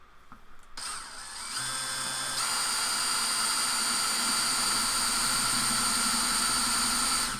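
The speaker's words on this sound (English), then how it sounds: "and when drilling with resin," A drill bores into a 3D printed resin part, starting with a few rough bites before settling into a steady, loud, high whine that holds for several seconds with no talking.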